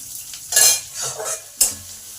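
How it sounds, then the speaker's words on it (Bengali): Chopped onion fries in oil with cumin and nigella seeds, giving loud bursts of sizzling and scraping as it is stirred, separated by quieter moments. "এবার পেঁয়াজটাকে একটু ভালো করে লাল লাল করে ভেজে নেব"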